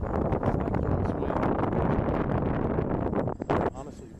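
Strong wind buffets the microphone at an outdoor RC jet flying field, a continuous loud roaring rumble that drops briefly near the end.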